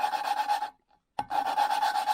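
A worn lapping spindle twists an engine valve against its seat in a 2005 Suzuki RM-Z450 rebuild, giving a steady close gritty rubbing rasp that stops briefly and resumes, with no talk.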